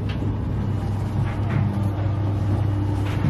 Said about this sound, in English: Caterpillar engines.